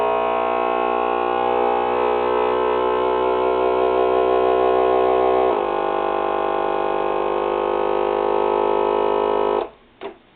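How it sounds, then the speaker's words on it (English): A vacuum sealer pumps the air out of a bag of brown sugar, giving a steady, loud motor drone for about nine seconds, with the pitch shifting partway through, then cutting off with a brief click. "We're going to seal. And you can see it sucking the oxygen right out of this bag."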